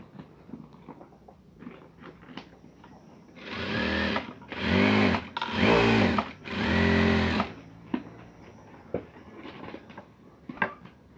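A sewing machine stitches a simple katori blouse in three or four loud, close whirring runs in the middle, with quiet handling taps and clicks before and after.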